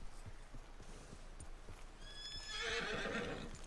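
In the video game Red Dead Redemption 2, a horse whinnies loudly near the end, a high quavering neigh over soft hoof clops and background rustle.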